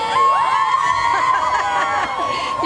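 A crowd cheers and whoops along the route of London's New Year's Day parade, a loud, continuous wash of excited voices with high shouts and whistles rising over it.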